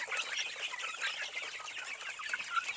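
Indio Gigante chickens on a farm make dense, overlapping clucks and chatter, moderately close and continuous, with no talking.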